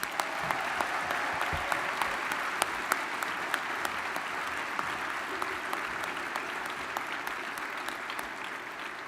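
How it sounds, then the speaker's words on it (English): A ceremony audience applauds steadily for a military color guard at an induction event, a dense, even wash of many hands clapping with sharper individual claps popping through, sustained at moderate loudness throughout. "Let's give Dr. Miley Dong and the Luke Color Guard a big round of applause."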